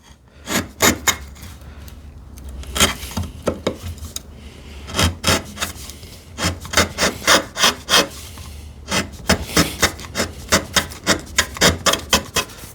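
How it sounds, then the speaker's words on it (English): A hand chisel pares waste from wood bevel down, giving close, dry scraping and rasping strokes in quick rhythmic bursts with short pauses between runs. "I have to go bevel down to remove some of that waste, because it is quicker with the chisel."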